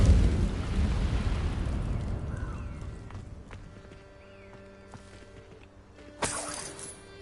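Incendio fire spell cast in Hogwarts Legacy, a loud whooshing roar of flame that fades over several seconds into quieter game ambience, followed by a sharp bright burst near the end.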